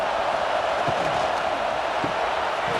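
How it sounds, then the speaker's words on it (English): Stadium crowd in the EA Sports College Football 26 video game, a dense, continuous roar of many voices at a steady level with faint thuds underneath and no distinct words. "This crowd bringing the energy and noise early."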